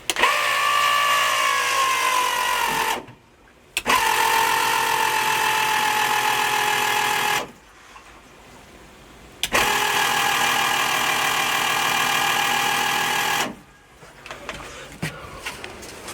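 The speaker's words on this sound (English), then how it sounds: "that pump noisy though" A noisy electric pump running with methanol in a racing engine fuel setup, a loud steady whining drone that cuts off and restarts in three long bursts with brief quiet gaps between.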